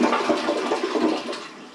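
A Glacier Bay 635675 toilet flushes on its number 2 button, a steady close rush of swirling water that holds strong and then starts to ease off, with no voices.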